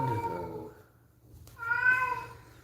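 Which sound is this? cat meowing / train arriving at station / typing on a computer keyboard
cat meowing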